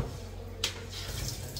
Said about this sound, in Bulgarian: Изцеждаме хубаво ориза от водата